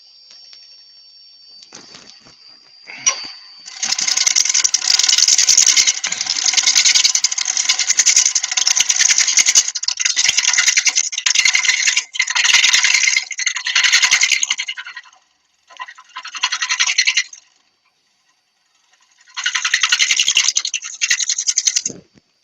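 A wood lathe spins up and runs while a tool cuts into a bland-coloured wood blank, producing a loud, steady shrill whir and scraping that continues for long stretches, broken by brief pauses and restarts, with no talking.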